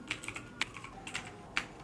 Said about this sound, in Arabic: نكتب بقى مرة أخيرة جود باي